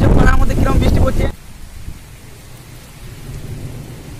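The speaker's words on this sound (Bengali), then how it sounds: "দেখতে পাচ্ছ পাড়ার মধ্যে কিরকম বৃষ্টি পড়ছে" Heavy rain from a Kalbaishakhi thunderstorm in a neighbourhood, a loud, roaring rush of downpour and storm noise that cuts off sharply after a second, followed by a faint, steady patter and hiss.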